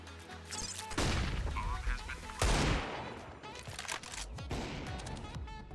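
CS:GO gunfire cracks out in a couple of sharp loud bursts with scattered shots between, while a voice talks over the action.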